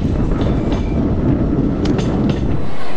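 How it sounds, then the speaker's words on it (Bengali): The Amaravati Express rolls toward Madgaon Junction in Goa, a loud continuous rumble of carriages with rhythmic wheel clatter on the rails and a few brief metallic squeals near the end, with no talking. "এখানে 1 মিনিট দাঁড়িয়েই আমাদের ট্রেন ছুটে চলল মডগাঁও জাংশনের দিকে।"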